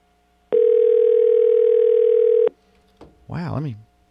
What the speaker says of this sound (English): let me call him again, make sure I called the right number, because it's not like Vest to not answer the phone